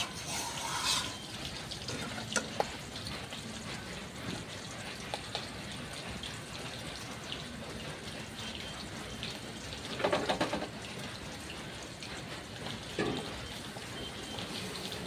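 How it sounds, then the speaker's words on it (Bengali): Water is poured into a cooking pot of fish curry with potato, eggplant, tomato and onion, giving a faint, steady splashing trickle with a few brighter gurgles along the way. "বন্ধুরা এখানটায় একটু পরিমাণ মতো জল দিয়ে দেবো।"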